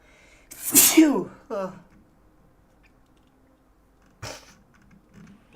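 A single sharp, close sneeze near the start, followed by a breathy exhale and a brief voice, then quiet with a faint click later.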